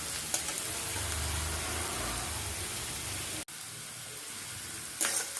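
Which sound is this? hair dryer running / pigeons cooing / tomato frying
tomato frying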